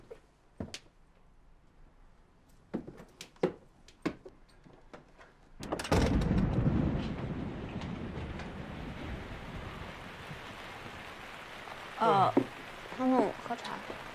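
Sudden rain begins after a few sharp knocks and clicks indoors, swelling into a steady hiss of rainfall outside, with brief speech heard over it near the end.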